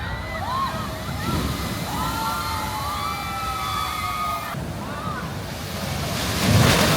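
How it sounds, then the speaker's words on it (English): Ocean surf crashes over a rock formation into a lagoon on Mindanao in the Philippines, a steady roar of water and wind that swells louder near the end, with distant voices shouting and cheering over it. "as the waves come crashing in, it comes over the rock formation and splashes everybody in the lagoons."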